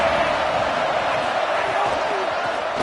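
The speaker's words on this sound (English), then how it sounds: "this crowd trying to help keep them there" Stadium crowd roaring at a football game as the home side pins the opponent deep in their own end, a dense, loud, steady wash of cheering and noise.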